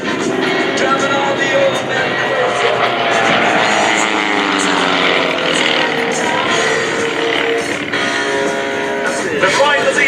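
Airshow planes flying past in formation at the Great Texas Airshow, a loud continuous propeller drone sweeping across from left to right with a slowly shifting pitch, holding steady throughout.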